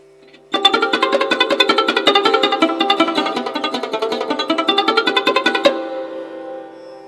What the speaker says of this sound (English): But if I play sarod with fingertip, it will sound like this.